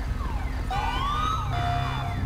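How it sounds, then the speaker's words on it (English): A car alarm goes off in the police-patrol game GTA V with LSPDFR, sounding as loud, sweeping electronic tones that rise and fall over a steady low engine rumble. "Hey, I hear a car alarm going off."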